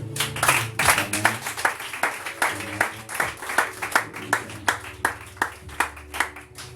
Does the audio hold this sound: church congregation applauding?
yes